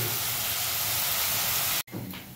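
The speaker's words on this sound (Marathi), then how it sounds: "कांद्याला चांगल्या प्रकारे तुम्हाला फ्राय करून घ्यायचं आहे, आणि कांदा परतवता तुम्हाला थोडंफार मीठ टाकायचं आहे त्यात" Onions sizzling in a pan with a pinch of salt, a loud steady hiss of frying that cuts off sharply near the end, then resumes more quietly.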